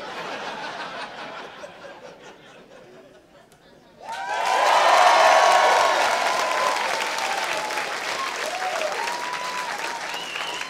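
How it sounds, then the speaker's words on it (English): Comedy club audience at the Irvine Improv applauding a stand-up comedian. A low murmur gives way at about four seconds to a sudden burst of loud, sustained clapping with scattered cheers and laughter that holds to the end. "when I turn back around, y'all clap like y'all baby doing his Easter speech."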